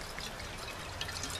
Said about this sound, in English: I'm going to pour a little bit off.